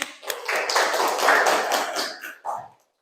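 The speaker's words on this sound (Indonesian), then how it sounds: "Oke, balik tepuk tangannya." Students in a classroom break into a burst of applause lasting a few seconds: close, dense clapping that tapers off at the end, with a voice mixed in.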